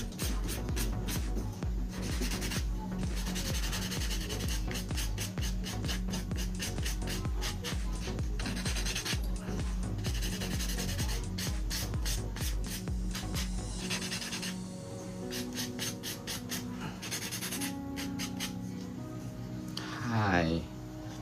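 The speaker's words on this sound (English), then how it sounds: "It's like a metal sanding band bit that you can go through and sand it down." Metal sanding band bit on an electric nail drill sanding down a full set of powder acrylic nails: steady, close rhythmic whirring and scraping in short repeated passes, with someone talking over it.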